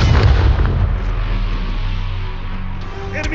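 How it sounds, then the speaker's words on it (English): Grenade blast in Call of Duty Black Ops Cold War gameplay: a loud, close boom at the start that rolls off into a rumbling tail over the following seconds, with no talking. "Grenade!"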